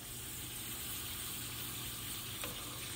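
A small piece of corn tortilla dropped into hot oil to test it, giving a steady, dense close sizzle and fizz that holds evenly throughout with no voices.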